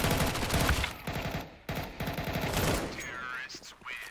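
Rapid gunfire in a Counter-Strike match on FACEIT, dense bursts of automatic shots with a brief gap in the middle, heard under faint in-game ambience and some voice chat.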